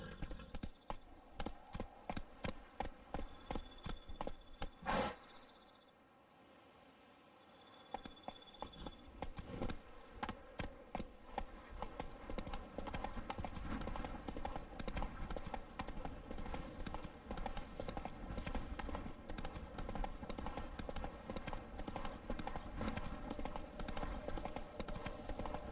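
Roach, a horse in The Witcher 3: Blood and Wine, gallops in a fast, steady, rhythmic clip-clop of hooves that runs nearly the whole time, close and prominent, with a brief burst of game ambience and a faint voice partway through.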